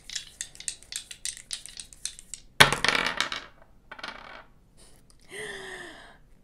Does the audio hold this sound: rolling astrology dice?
yes